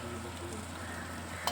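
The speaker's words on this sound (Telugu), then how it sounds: "మనం ముందుగా ఫ్రై చేసిన నెత్తళ్ళు ఇందులో వేసుకొని ఇలా కలుపుకోవాలి" Pre-fried dried anchovies being stirred into a pan, a soft steady sizzle with a scrape of the spoon near the end.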